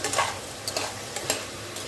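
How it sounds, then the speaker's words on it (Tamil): Brinjal masala sizzles in a pan as it is sautéed, a constant frying hiss punctuated by several quick spatula scrapes at a loose rhythm, close up with no talking. "வதக்கி கொடுப்போம் மசாலாலாம் நல்லா வதங்கி வரட்டும்"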